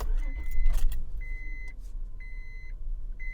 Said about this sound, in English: turn the ignition completely off, and then turn it back on and start the car.